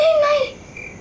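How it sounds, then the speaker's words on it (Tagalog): A cricket chirps in the rural provincial countryside, one short bright trill that fades quickly into quiet. "Kuliglig lang yon, ha?"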